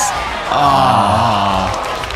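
Spectators at a bouldering finals cheer and scream loudly for a climber, a sustained roar with voices rising over it.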